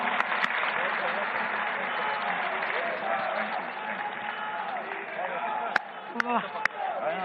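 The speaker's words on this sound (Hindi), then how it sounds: "एक बार आप सबके लिए मैं चाहूंगी जोरदार तालियां हों" An audience at a Delhi government event claps in a dense, sustained round of applause, fairly loud throughout, with a few sharper claps and shouts near the end.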